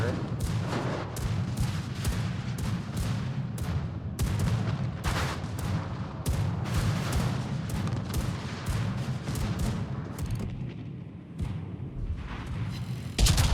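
Heavy naval gunfire from an Iron Duke British battleship in World of Warships, engaging a Cavour: dense, booming salvos and rumbling impacts roll on almost without pause, loud and close throughout.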